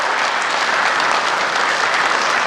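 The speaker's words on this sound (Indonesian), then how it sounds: "Tepuk tangan yang meriah boleh hadirin sekalian." Loud, dense audience applause fills a hall at a Papua gubernatorial candidates' public debate, a steady wash of clapping with no gaps from start to finish.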